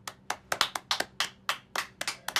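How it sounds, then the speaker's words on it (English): A small group of office coworkers claps in a quiet room, about a dozen distinct, uneven hand claps spaced closely over a couple of seconds, with no talking. "So give yourselves a round of applause."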